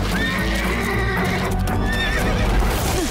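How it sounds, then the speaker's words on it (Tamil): A wild horse in an action cartoon neighs in a loud, bright whinny, with hoof clip-clops and busy background sound layered underneath. "இது காட்டுல வாழ்ற குதிரை."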